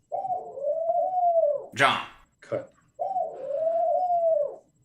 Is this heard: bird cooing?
yes